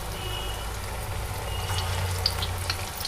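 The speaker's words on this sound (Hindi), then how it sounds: "इसमें पकौड़ों को डाल के तल लेते हैं" Bottle gourd and gram flour pakoras frying in hot oil in a kadhai, a steady, even sizzle and bubbling that holds at the same level throughout, close up with no talking.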